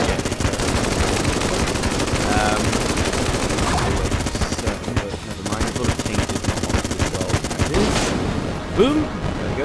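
Constant rapid gunfire in the video game Enter the Gungeon, a dense loud burst of shots and impacts that runs on for nearly ten seconds with only small dips, and a voice is briefly heard under it.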